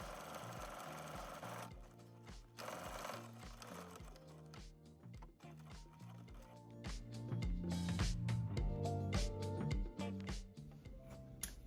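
Sewing machine stitching denim jacket panels together at a 5/8 inch seam allowance, a fast continuous mechanical chatter with shifting pitch, close and fairly loud, with no voices.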